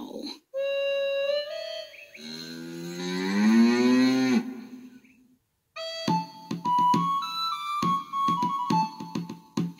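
A cow moos several times in drawn-out, rising calls, loud and close, separated by brief pauses, with a whistle-like musical tone between the moos.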